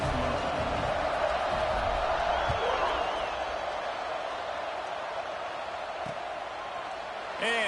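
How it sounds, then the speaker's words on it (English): A college football video game stadium crowd after a score, a broad, steady roar of cheering and buzzing that slowly eases, heard under a commentator's ongoing play-by-play. "this crowd is buzzing after that last score"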